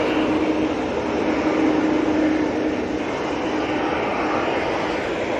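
A Boeing 787 Dreamliner jet at Manchester Airport produces a loud, constant broadband engine roar with a low steady hum underneath, filling the whole stretch without letup and with no voices.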